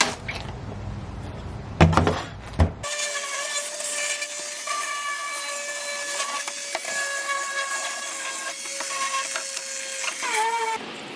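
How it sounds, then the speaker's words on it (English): Wooden boards for a DIY sliding closet door are joined with pocket hole screws. A few knocks of handling lead into a power drill's long, steady whine that runs for about eight seconds with slight dips in pitch. "now I'll screw these together, put a few pocket holes in here"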